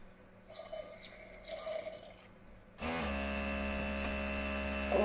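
The cooling fan in a Philips Perfect Draft beer machine comes on after a few faint drips and soft sounds. It sets up a steady, even hum and whir that carries on unchanged to the end.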